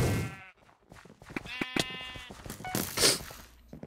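Sheep bleating in a video game, a couple of short wavering bleats with clear harmonic tone, close and fairly loud amid other game sounds.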